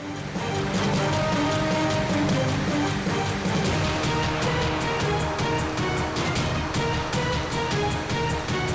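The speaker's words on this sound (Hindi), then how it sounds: "जोधपुर के लूणी क्षेत्र में भी बारिश का दौर जारी है" Steady heavy rain in the Luni area of Jodhpur, a dense continuous hiss of downpour with no pauses, loud and close throughout.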